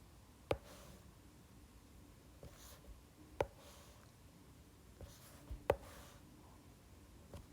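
Pen or marker drawing asymptote lines on a tangent graph, three sharp taps spaced a few seconds apart with faint soft scratching between, close and quiet, no talking.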